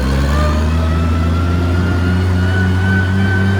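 Oliver Super 77 tractor engine working hard under full load, a steady loud low rumble with a strong, even drone and no pauses, close by.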